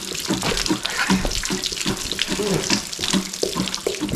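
Water glugs and gurgles as it drains from an RV hot water tank into a pail, a steady close splashing stream with uneven pulses throughout.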